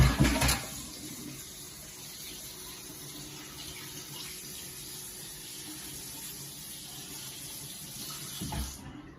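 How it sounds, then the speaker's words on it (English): A kitchen tap running steadily while hands are washed beneath it, a soft continuous water stream with brief louder splashes at the start and end, no talking. "I'm going to wash my hands off right quick"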